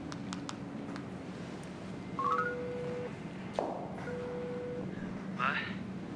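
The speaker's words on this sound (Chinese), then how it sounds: "我打电话问一下他们几个什么时候能到。" Telephone keypad tones sound in a drama scene: a few short beeps early, then longer steady tones, fairly faint, with background murmur under them.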